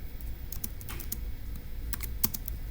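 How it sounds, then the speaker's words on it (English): Typing on a computer keyboard: quiet, scattered key clicks in a loose, uneven rhythm, heard close and faint. "let's go ahead and type that up in our notes in section B"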